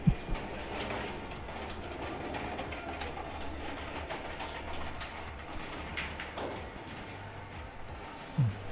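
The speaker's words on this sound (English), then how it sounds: "Is there a freight train coming through here? Sounds like it." A freight train rumbles past outside a pool hall in Herndon, Virginia, a steady low roar with faint rail clatter running under the room, distant and muffled.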